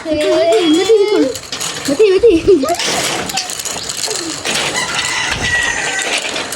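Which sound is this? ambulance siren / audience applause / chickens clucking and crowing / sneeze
chickens clucking and crowing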